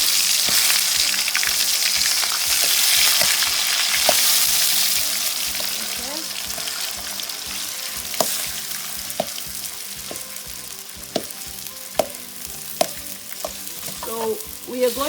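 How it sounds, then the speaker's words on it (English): Minced fish frying in hot oil, a continuous loud sizzle with scattered pops, stirring clinks and scraping throughout, close and steady with no talk. "Our oil is hot, so we throw in the minced fish."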